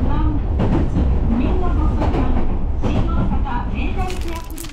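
An Osaka subway train runs on its rails near Namba Station, giving a steady, loud rumble and clatter from start to finish while people talk over it. The noise thins toward the end.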